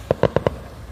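Fireworks go off over a beach, giving four quick, evenly spaced pops in rapid succession at moderate loudness over a faint background hiss.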